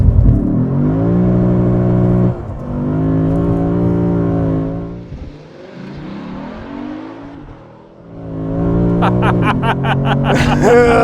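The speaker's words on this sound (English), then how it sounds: "Sick burnout, Yuri." 2021 Lexus RC F Track Edition with a naturally aspirated V8 doing a burnout, the engine holding a loud, steady high rev, dropping briefly, then surging again as tire noise crackles in at the end.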